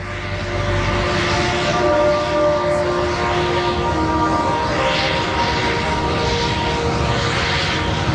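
The twin engines of a Consolidated Catalina PBY-5A flying boat drone loudly and steadily at Duxford, a continuous throbbing roar with a humming tone, as if passing close by.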